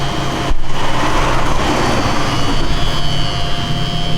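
A Samsung side-by-side refrigerator that is not cooling properly runs with a steady, even whir and hum, heard close and fairly loud with no talking.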